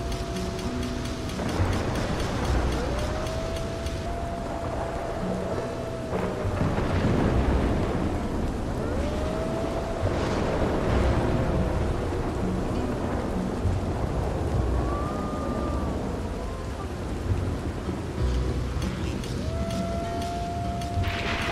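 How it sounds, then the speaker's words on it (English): Rolling thunder from frequent lightning strikes during a storm mission in Red Dead Redemption 2 booms repeatedly over continuous rain, with tonal game sounds drifting through the mix. "So many lightning strikes because of this mission requires you to actually plant the rods for the lightning"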